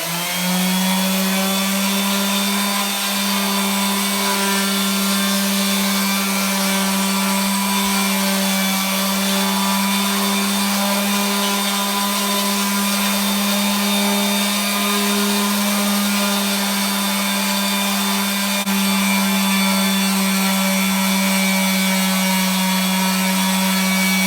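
An epoxy beach board is sanded with MicroMesh, and a steady, loud motor drone hums without a break throughout, holding one low pitch with a faint rasp beneath.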